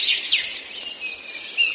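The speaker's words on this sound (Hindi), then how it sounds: "थोड़ी देर बाद चिड़ियों की आवाज से समझ गया कि अब सुबह होने वाली है।" Birds chirping at dawn: a few bright, sweeping tweets and whistles over a quiet background, clear and fairly close, with no voices.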